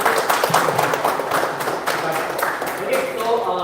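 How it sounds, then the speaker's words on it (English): Audience applause at a college closing ceremony, a dense continuous clapping from a crowd of many hands, fairly close and steady throughout the clip. "Can you give a round of applause to the"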